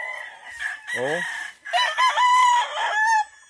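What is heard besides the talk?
roosters crowing on a farm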